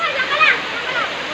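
Waterfall in Tanay, Rizal, a steady broadband rush of falling water that holds constant throughout, with faint voices briefly audible above it.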